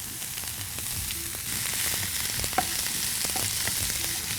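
Mixed vegetables, including green beans, carrot, cauliflower, three colours of capsicum and cabbage, being tossed in a hot pan, giving a steady close sizzle broken by short stirring scrapes and clatters, with no speech.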